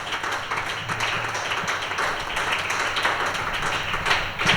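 A church congregation claps hands together during a sermon, a dense continuous patter of many overlapping claps at a steady loud level with no clear beat.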